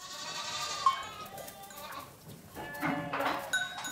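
Several young goats bleat in short, wavering cries for their mothers after milking, some near and some farther off, overlapping amid a busy farmyard.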